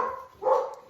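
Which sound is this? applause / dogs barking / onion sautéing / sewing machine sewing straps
dogs barking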